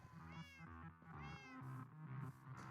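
A cat in the video game Minecraft gives a series of clear, close meows, several tonal cries in quick succession with no talk.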